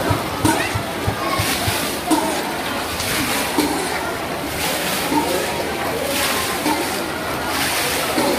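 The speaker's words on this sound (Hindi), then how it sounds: "पूरा पानी आ रहा अंदर, ये डोर देखिए भाई, डोर से आ रहा बाहर, रोड पे का पानी अंदर" Floodwater from a road pours in through the door of a dargah, a continuous rushing slosh with repeated splashes, loud and close, as someone talks over it.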